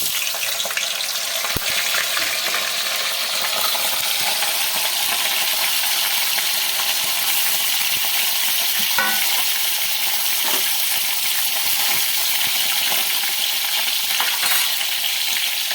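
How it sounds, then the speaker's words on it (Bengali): Paneer pieces frying in hot oil in a pan, a loud, dense, continuous sizzle with occasional crackles and light clinks throughout, no voices. "এবার আমি অল্প অল্প করে পনিরগুলো ভেজে নেব।"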